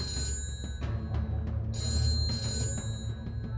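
Inside a taxi in a mystery drama, a telephone rings with repeated electronic trills over a low rumbling cabin hum. It sounds moderately faint with no speech.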